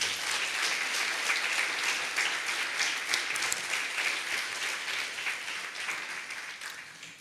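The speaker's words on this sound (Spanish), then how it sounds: "Denle un aplauso al Señor, amados hermanos" A church congregation claps in unison for the Lord, a steady, moderately distant wash of applause lasting several seconds and tapering slightly at the end.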